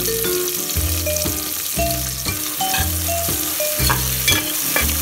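Sliced onion, green chilli and whole spices such as cinnamon, star anise, bay leaf, cloves and cardamom sizzle loudly in hot oil in a pan, with a spoon repeatedly stirring and scraping.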